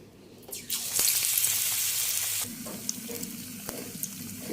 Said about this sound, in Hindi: एबे आपको आम बैगण छाणीदबा।